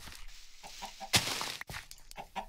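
Blocky chickens cluck in a Minecraft farm, several short clucks in a row with a louder burst of game noise in the middle, fairly close and with no talking.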